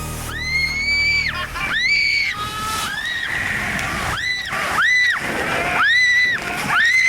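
A log flume ride in the 1999 Total Immersion attraction drops about 75 feet over the edge of a sawmill into the water below. Loud rushing water and splashing run throughout, with repeated bursts of rider screaming layered over the churn.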